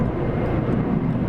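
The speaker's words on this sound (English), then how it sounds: "The sound you're hearing is the 757 taking off in the south." A Boeing 757 takes off at a distance, a steady, loud low roar of jet engines filling the moment with broadband rumble and no talking.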